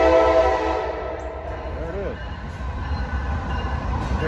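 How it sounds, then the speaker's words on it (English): Train rolling along a rail line near the old Abingdon train depot on the Virginia Creeper Trail: steady low rumble with a brief horn-like tone partway through, while a person talks over it outdoors. "There's a train coming now."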